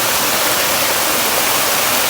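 Waterfall in a dense forest, a steady broadband rush of falling water filling the whole span at close range, loud and unbroken, with no voices.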